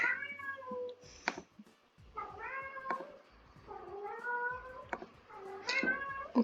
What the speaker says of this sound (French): Je suis désolée si vous entendez mon chat.